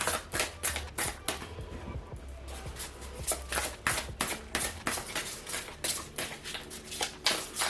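A deck of tarot cards is shuffled by hand. Rapid riffling bursts and soft slaps repeat in quick succession, close and fairly quiet.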